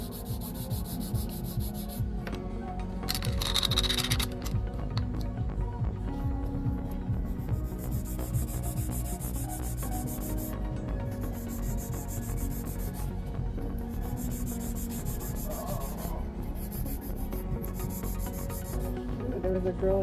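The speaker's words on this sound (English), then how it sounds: "we're just going to remove the bulk using the 240 grit file" A 240 grit file removes the bulk from a coffin-shaped nail with glitter, giving steady, close rubbing and sanding strokes that carry on throughout, with short pauses, and no talking.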